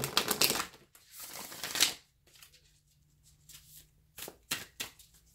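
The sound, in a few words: shuffling tarot cards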